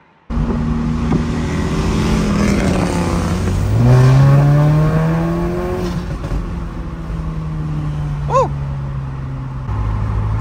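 An Audi S3 8Y with a Stage 2 E85 tune pulls hard on the road, its engine note climbing steadily through the gears with loud, continuous harmonic rising tones and a brief high whine near the end.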